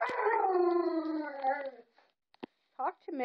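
A Rhodesian Ridgeback dog lets out a long, drawn-out howl close by, followed by a few short yips and whimpers, while a person talks to her between the sounds.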